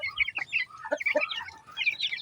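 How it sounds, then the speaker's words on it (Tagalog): Native chickens and chicks clucking and peeping while feeding, with overlapping soft calls and chirps, close by and moderately loud. "Kaya yung mga sisiw natin, so lahat ng native chicken natin, so ganadong ganado sila"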